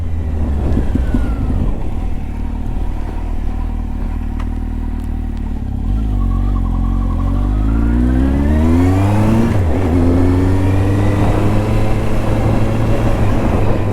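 Close, loud Kawasaki Z1000 engine idling with a low burble, then revved upward in a climbing sweep around the middle and held at a higher pitch, continuous and free of speech.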